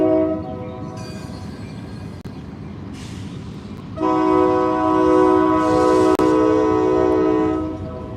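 Passing train with a loud multi-tone horn, sounding briefly, then again in a long sustained blast over the rumble of the rails, close by.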